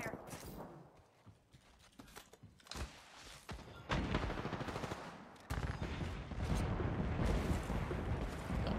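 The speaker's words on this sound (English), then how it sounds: "Opening fire." Rapid gunfire in the battle royale game Apex Legends, with bursts of automatic shots that swell louder in the second half against busy game sound.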